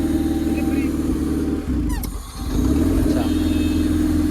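Close, loud engine drone from a KCPD GT650 motorcycle with an SS Motocorp exhaust, dipping briefly midway as the revs fall, then swelling back to a strong, steady rumble.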